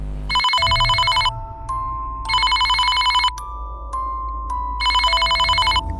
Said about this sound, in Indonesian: kok nggak diangkat sih teleponnya?